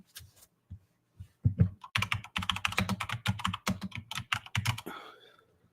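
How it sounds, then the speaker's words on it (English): Loud, close computer keyboard typing in quick bursts of clacky keystrokes, with short pauses between flurries. "My keyboard's kind of loud."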